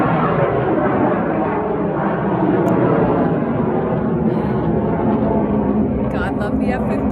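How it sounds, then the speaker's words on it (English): An F-15 fighter jet flying overhead gives a continuous, loud, dense roar that holds steady throughout. "God love the F-15."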